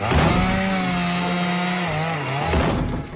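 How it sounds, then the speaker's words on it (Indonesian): A cartoon chainsaw roars loudly and steadily as it cuts through a door, its droning pitch holding level and dipping slightly before revving back up, with no talking over it. "Squidward malah menjebol pintu masuk menggunakan gergaji mesin"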